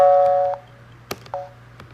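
A doorbell chimes at a Halloween door, with two-tone electronic dings sounding twice, a sustained chime, then a sharp click and a second chime close by. Faint low hum underneath, no speech.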